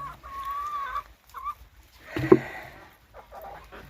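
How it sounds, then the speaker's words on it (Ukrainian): Chickens cluck and call in a village yard while eating, a few short squawks and clucks near the listener with quiet gaps between, no talking. "Бачите, курочки їдять десь в тому дворі."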